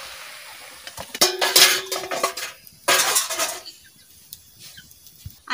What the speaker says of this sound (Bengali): কড়াই ধরে ঢেলে দেব।